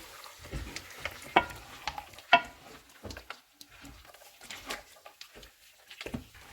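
Makhandi halwa with dry fruits is roasted and stirred in a pan, giving faint scraping strokes and a soft sizzle at irregular intervals, with a few sharper clinks, close by and without talk.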